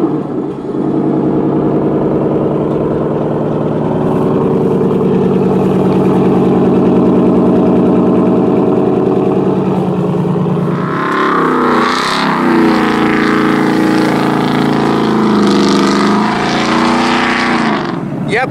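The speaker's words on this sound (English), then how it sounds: "And with the truck having a V8, it sounds like this." Ford Raptor pickup with a Whipple supercharged 5-liter V8 and a full Corsa exhaust, rumbling loudly and steadily at close range before the engine note rises and roughens as it revs up partway through.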